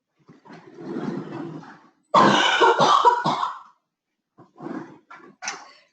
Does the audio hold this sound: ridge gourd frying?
no